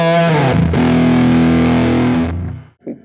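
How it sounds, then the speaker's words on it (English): An electric guitar played through a Big Muff fuzz model on a Quad Cortex rings out a thick, saturated sustained chord that holds for about two seconds before cutting off, followed by a brief faint pluck. "The first one I got, this is a big muff."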